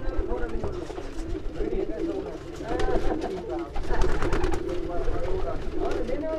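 Pigeons in a champion racing loft coo in overlapping soft warbling calls, close and steady, while someone talks over them throughout.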